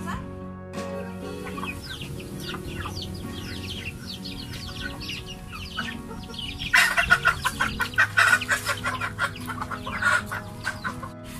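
Native Bisaya chickens cluck and squawk close by, growing louder and busier toward the end, over a low background hum.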